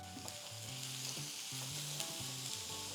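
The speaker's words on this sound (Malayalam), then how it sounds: "ഇതെല്ലാം കൂടെ ഒന്ന് വഴറ്റിയെടുക്കാം." Onion and beetroot sautéing in a pan for beetroot pachadi, a steady close sizzle with rhythmic stirring scrapes, no voices.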